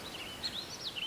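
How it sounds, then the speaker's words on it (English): Small birds sing with high, warbling chirps in quick succession, fairly clear against a soft background hiss. "Hero smiled when he heard the birds singing."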